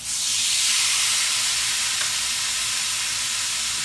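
A rib eye steak sizzles loudly in a hot skillet set on a grill, a steady, close, broadband hiss of searing meat that holds unbroken from start to finish with no talk.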